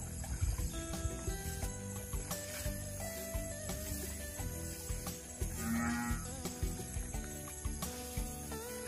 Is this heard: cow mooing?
yes